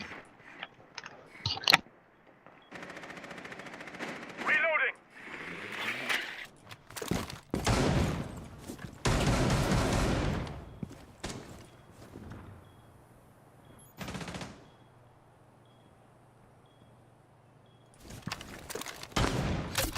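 Gunfire bursts in Rainbow Six Siege come through as repeated sharp volleys and sustained automatic fire, loud and separated by quieter gaps, with occasional short player voices.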